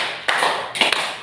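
A group in a classroom clapping game claps on count: one sharp, crisp clap followed by a quick pair of claps, fairly close and clear.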